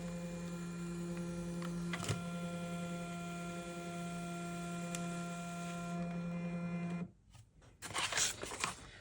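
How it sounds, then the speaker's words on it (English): A POLONO portable printer runs steadily with a constant motor hum and a couple of clicks while printing a message, then stops abruptly, followed by brief handling rustle. "I have successfully printed a message"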